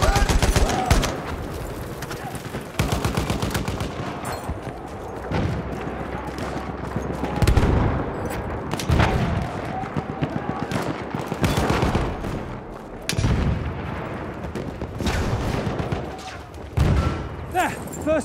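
Machine gun fire in Battlefield 1 multiplayer combat, long rattling bursts and repeated gunshots with booming impacts across a busy battlefield, with voices shouting in between.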